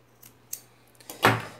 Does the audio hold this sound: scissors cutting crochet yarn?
yes